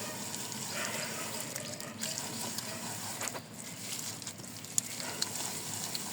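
Palm fruit pulp juice being strained through a sieve makes a soft, steady trickle and splash of liquid close by, quiet and continuous, with occasional light knocks.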